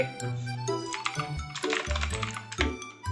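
Keys clatter on a compact half-size computer keyboard, a quick irregular burst of close, crisp clicks and taps with no pauses, heard alone.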